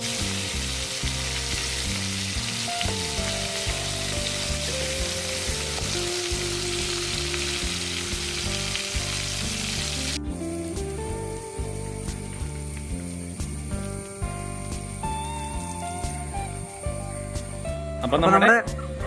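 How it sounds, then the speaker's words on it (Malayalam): Prawns deep fry in hot oil, a continuous busy sizzle and crackle that runs throughout, with a short clatter of utensils near the end. "അപ്പോൾ ഇനി ബാക്കിയുള്ളത് ഇതുപോലെ തന്നെ നമുക്ക് വറുത്തെടുക്കാം"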